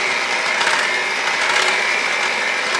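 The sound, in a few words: electric hand mixer mixing milk into hot ingredients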